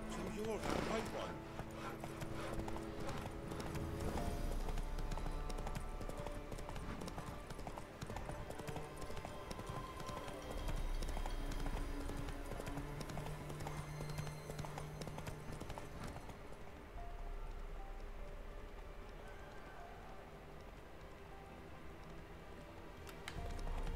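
Geralt's horse Roach clip-clops in The Witcher 3 video game, steady hoofbeats over game music and ambience, with someone talking over it throughout.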